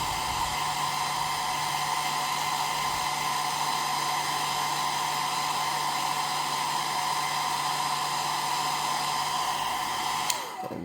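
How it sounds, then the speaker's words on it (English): Steady, continuous whir of a hair dryer on low heat warming a motorcycle helmet chin mount, a constant airy hum with no talking, ending with a brief click. "just take your hair dryer, and again, not for too long, just 5 to 10 seconds"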